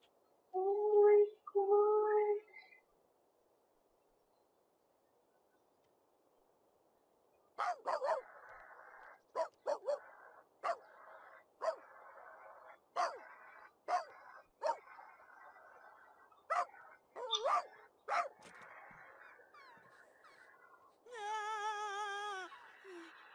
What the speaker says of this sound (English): look at the cute little puppies!